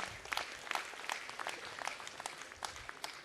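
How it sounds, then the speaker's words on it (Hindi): A prize-distribution audience at a drama competition claps, a short, fairly faint patter of scattered hands heard from a distance. "जोरदार तालियां हो जाएं"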